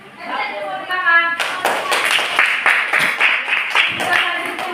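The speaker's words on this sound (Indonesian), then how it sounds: "Tepuk tangan." Hands clap in a room, a dense burst of applause that starts abruptly after a voice speaks and continues steadily to the end.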